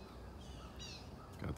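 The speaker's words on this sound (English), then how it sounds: "got the birds going this morning" A crow caws once in the morning at a nature preserve, a short harsh call, followed by another brief bird call near the end, faint and distant over quiet outdoor background noise.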